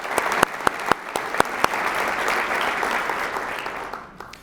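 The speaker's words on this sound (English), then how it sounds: "Round of applause," A crowd claps steadily, starting with a few sharp individual claps before settling into an even wash of applause that fades at the end.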